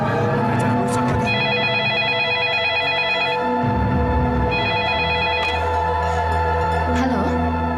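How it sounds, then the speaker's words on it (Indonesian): A telephone rings indoors in an Indonesian mystery drama, two bursts of electronic ringing layered over a busy background with some talk mixed in. "ada telepon dari Mas Jito."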